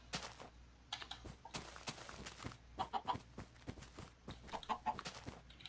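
Chickens in the Minecraft video game cluck softly between sharp clicks and taps, short scattered bursts at low level, with no talking heard.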